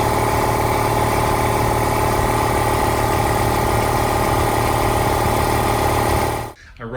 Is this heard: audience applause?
no